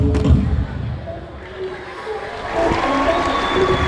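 A stadium crowd at an under-18 and under-20 athletics championship in Abeokuta applauds and cheers, a broad, sustained roar that swells toward the end, while a commentator's voice runs over it.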